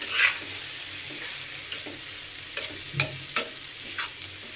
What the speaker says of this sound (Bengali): এই জন্য তাওয়ায় দিয়ে দিলাম জল শুকানোর জন্য।